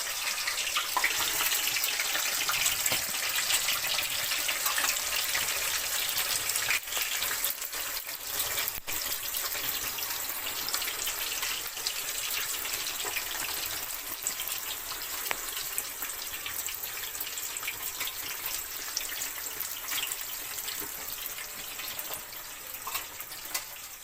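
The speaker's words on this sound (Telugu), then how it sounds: "ముందుగా కట్ చేసి పెట్టుకున్న కాకరకాయ ముక్కల్ని నూనెల్లో నిదానంగా వేసి ఫ్రై చేయాలి ఇలా" Cut bitter gourd pieces fry in hot oil, giving a loud, dense, continuous sizzle that stays steady and close with no talk for the whole stretch.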